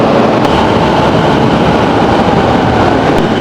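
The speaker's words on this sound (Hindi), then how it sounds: "ये उस तरफ को जाने वाली मेट्रो है, लेकिन हमने इस तरफ को जाना है।" Steady, loud rumbling roar of a metro train running through a station in Japan, broadband and continuous with no speech.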